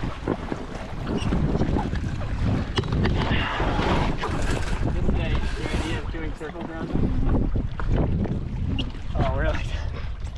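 Hobie 16 catamaran sailing in wind while tacking, with gusty wind noise buffeting the microphone, water rushing against the hulls and crew voices talking over it.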